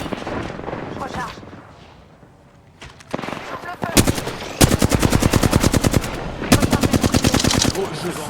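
Rapid automatic gunfire in Apex Legends, loud and near, coming in long rattling bursts after a quieter opening where someone speaks.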